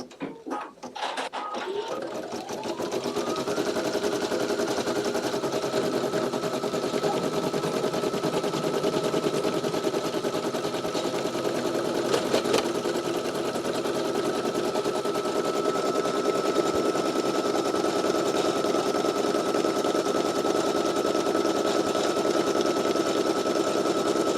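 A Ricoma embroidery machine stitching quilting lines on an in-the-hoop bag gives a steady, loud, fast mechanical rattle and hum that runs unbroken for the whole stretch, starting after a brief spin-up.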